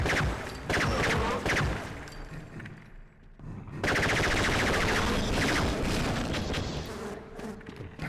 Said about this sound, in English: I don't remember the aliens having turrets.